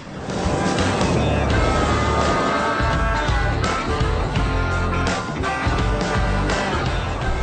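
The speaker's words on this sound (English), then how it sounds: "We're now heading down the road to Millmerran to see just how well the FH16 performs as a B triple combination." A Volvo FH16 truck hauling a B-triple road train on a country road, with a steady, loud engine and road roar that holds throughout and no talking.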